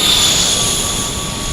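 A Learjet passing at San Diego airport, a loud, steady broadband jet roar with a thin high whine, close by and with no voices.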